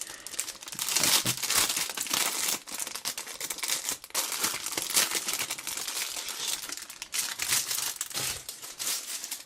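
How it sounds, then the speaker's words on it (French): Packaging for a K-Board keyboard case is unwrapped, giving continuous close, loud crinkling and rustling of plastic and paper in irregular bursts with short pauses between them. "Alors on va commencer avec le déballage."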